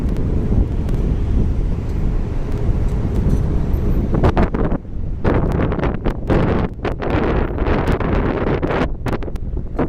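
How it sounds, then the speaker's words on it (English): Strong wind buffeting a microphone outdoors on a Tokyo street in Shinjuku, a loud continuous roaring rumble with gusty crackling bursts throughout. "It's super windy right now."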